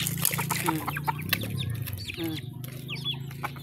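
Several chickens cluck and murmur close by, with a brief human voice mixed into the lively farmyard chatter.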